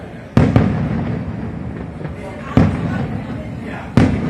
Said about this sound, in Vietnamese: Lần đầu tiên nhìn pháo bắn mạnh như này luôn đấy.